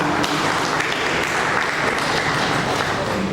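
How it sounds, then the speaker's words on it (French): Audience applause at an influencer awards event in a hotel ballroom, a dense, steady wash of clapping throughout at close range. "Applaudissons quand même pour le montant."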